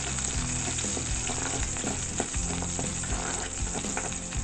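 Curry leaves sautéing in hot oil in a pan while making sambar rice give a steady, close sizzle with occasional stirring scrapes and crackles throughout, with no talking.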